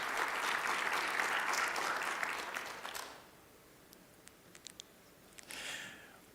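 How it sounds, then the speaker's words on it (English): Audience applause for panelists at a digital technology forum: dense clapping from a crowd for about three seconds, then fading out to quiet with a few scattered claps and a short final burst. "if you could give them a round of applause."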